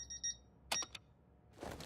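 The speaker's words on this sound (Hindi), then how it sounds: "ओह नहीं, मैंने अलार्म में गलत टाइम सेट कर दिया।" Cartoon alarm clock ringing in quick bright bursts, short electronic beeps and a clattering ring, fairly faint and followed by a soft rustle.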